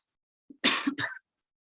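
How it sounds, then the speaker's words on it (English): A single close, sharp cough in two harsh bursts after a brief throat sound, then silence. "Excuse me, I have a bit of a cough today."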